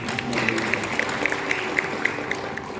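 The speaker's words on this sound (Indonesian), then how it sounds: "Beri tepuk tangan untuk orang tua ini." A church congregation applauds the parents with light, rhythmic clapping, steady and moderately close, while a low murmur of voices runs underneath.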